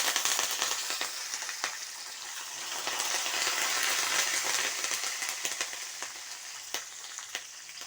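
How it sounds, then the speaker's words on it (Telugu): Green chillies and curry leaves fry in hot oil in a pan with a dense, steady sizzle and crackle, broken by sharper pops, close and alone. "వేగనిద్దాం. పచ్చిమిరపకాయలు, కరివేపాకు"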